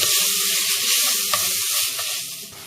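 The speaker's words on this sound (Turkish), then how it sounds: "Öncelikle yağsız olarak kıymayı kavurmaya başlıyoruz." Ground meat browning in a dry pot without oil, a steady bright sizzle with occasional stirring scrapes, close and continuous.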